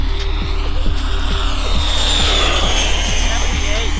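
Flite Test Zephyr electric ducted-fan model jet at full throttle, a loud, steady, high-pitched whine that holds continuously throughout, with a faint voice beneath it.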